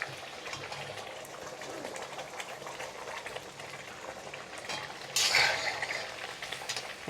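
Oil bubbles steadily in a pan as eggs go in for a hotel-style Bengali egg bhuna, giving a continuous soft sizzling hiss with a louder burst of crackle near the end.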